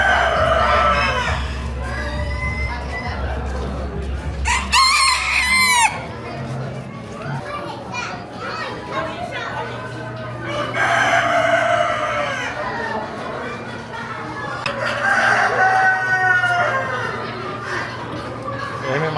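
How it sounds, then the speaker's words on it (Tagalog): Chickens and roosters at an event in Bermuda crow and cluck repeatedly, loud and close, with several long crows among constant clucking, while people and children talk nearby throughout. "Iba't ibang klase ng mga manok"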